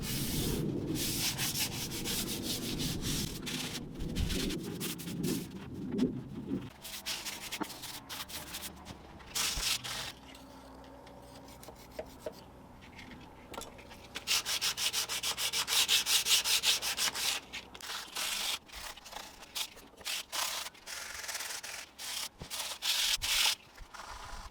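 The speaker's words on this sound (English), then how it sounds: "I'm also going to be dealing with and sanding this down as well." Hand sanding to denib a painted surface during a house makeover, a steady scratchy rubbing that comes and goes in strokes, close and moderately loud, with no talking.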